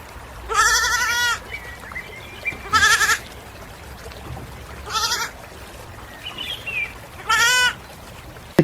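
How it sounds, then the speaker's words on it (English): A goat bleats four times in short, wavering cries spaced a couple of seconds apart, fairly close, with faint bird calls between them. "Goat."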